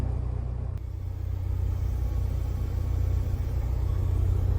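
A piston aircraft engine settles into a steady idle just after start-up, a continuous low throbbing rumble that holds evenly from start to finish with no talk.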